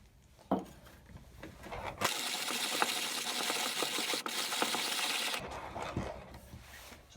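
Hand-cranked 1930s Dienes 610 Solida coffee grinder on its finest setting grinding beans, a soft, close, steady crunching burr grind lasting a few seconds, set between quieter handling noises.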